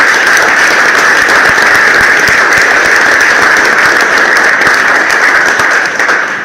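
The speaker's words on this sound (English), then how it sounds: "a very big round of applause for Gwen" An audience applauds a guest, dense continuous clapping from a crowd that holds steady and loud, then begins to taper at the end.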